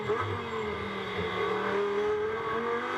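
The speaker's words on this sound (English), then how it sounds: "On board with Stefan Rattel, down towards turn 1. Go right again. And then brake and go sharp right" On board a GT2 race car at the Algarve circuit heading toward turn 1, the engine pulling steadily with a rising pitch at moderate loudness.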